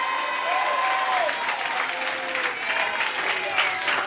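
A church congregation claps together during a pastor's sermon, a steady, dense round of applause with faint voices underneath.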